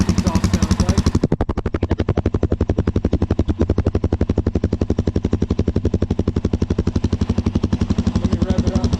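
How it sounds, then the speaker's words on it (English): Suzuki DRZ400 motorcycle with its stock exhaust idling after a cold start, a loud, close, steady rapid thumping pulse from the single-cylinder engine, alone with no talk. "this is what the stock exhaust sounds like."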